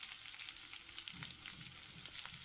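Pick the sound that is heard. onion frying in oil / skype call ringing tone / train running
onion frying in oil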